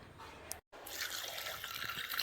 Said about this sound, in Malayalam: ആവശ്യത്തിനുള്ള വെള്ളം കൂടെ ഒഴിച്ച് കൊടുക്കാം